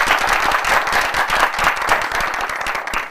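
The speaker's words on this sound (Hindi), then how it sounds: "तालियां बजाइए।" An audience claps together through a lecture hall, loud and dense, the strokes running as a continuous round without talk over it.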